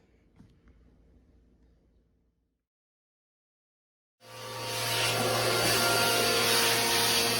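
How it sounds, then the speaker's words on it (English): Faint light shuffling gives way, after a short silence, to a vacuum cleaner starting up loud and close, then whining steadily as it sucks sawdust off a wooden farmhouse table frame with cross braces. "Now you see me vacuuming out the dust because we have our cross braces on"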